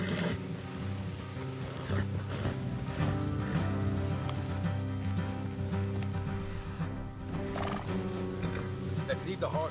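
Horses neigh and whinny while hooves clip-clop steadily in the video game Red Dead Redemption 2, with game background sound and a voice talking over it.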